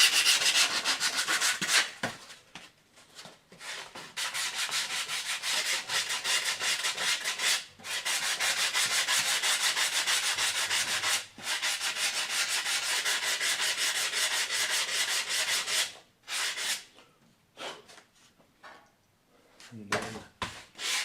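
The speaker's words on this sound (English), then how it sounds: "I'm just going to sand the" Sandpaper rubs along the leading edge of a foam model wing in long, steady strokes, close and fairly loud, with a few short pauses between passes.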